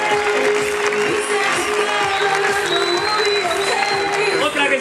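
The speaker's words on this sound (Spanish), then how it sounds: "Fuerte ese aplauso para ella." An audience at the 2010 Reina del Dulce de Leche pageant coronation in Cañuelas applauds a queen with loud, continuous, dense clapping from a large crowd, and a voice speaks over it.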